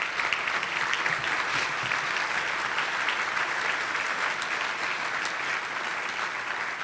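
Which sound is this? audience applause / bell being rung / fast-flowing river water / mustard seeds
audience applause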